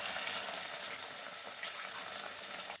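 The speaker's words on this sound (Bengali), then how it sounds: "জল দিয়ে দিচ্ছি, গরম জল দিয়ে দেবো" Hot water poured into a pan of chicken makhni masala, a steady rushing hiss mixed with sizzling that runs evenly through the short moment, fairly quiet and close.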